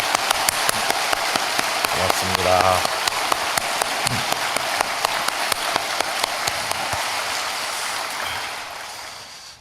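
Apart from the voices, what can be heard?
audience applause in church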